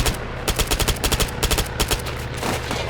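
Rapid automatic gunfire in Arma 3, near and loud, rattling in quick regular bursts with steady rumbling echo beneath and no voices.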